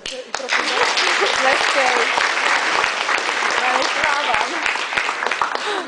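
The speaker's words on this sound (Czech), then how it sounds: "Nejen taková vůle zaslouží váš potlesk." Sustained applause from a crowd at a ball, dense clapping throughout with a brief quieter moment at the start.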